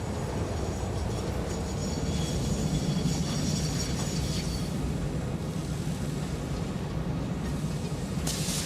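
A train in Satisfactory rumbles steadily, with a low, dense roar throughout and a brief hiss of air brakes near the end, no voices over it.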